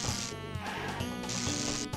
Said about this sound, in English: And you just fucking have to run away from bees.